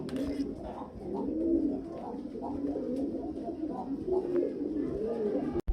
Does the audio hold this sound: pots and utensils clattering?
no